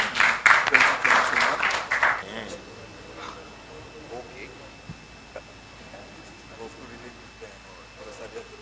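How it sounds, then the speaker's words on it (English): An audience at a delegate workshop claps in a short burst that fades out after about two seconds, followed by quiet room tone with faint murmurs. "please, round of applause for him again"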